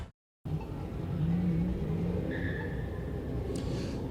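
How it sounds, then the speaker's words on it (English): Car engines rumble and rev in the background at a crowded outdoor street party for football fans in the Bay Area, a continuous low roar with engine tones swelling and fading. "you can maybe kind of hear that in the background, some of the engines revving"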